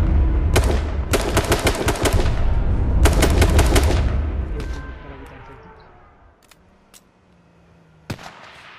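Rapid bursts of automatic gunfire in the battle-royale video game H1Z1, two loud volleys over the first few seconds followed by a few sparse, sharper single shots as the scene quiets.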